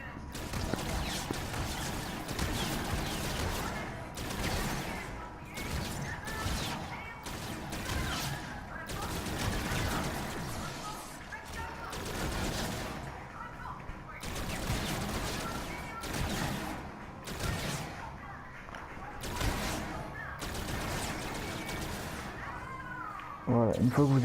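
Video game gunfire, rapid repeated shots and bursts running steadily throughout at moderate level, with someone talking over them.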